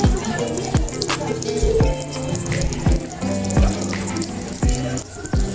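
A tap runs steadily during handwashing at an antenatal check-up, with water splashing into a sink, close and fairly loud, and tonal sounds in the background.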